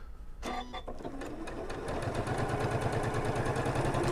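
A Brother MC9450 QCP sewing machine stitches parallel rows with its quilting guide bar, running in a steady fast mechanical rhythm that starts with a few clicks and settles into a continuous close, even whir.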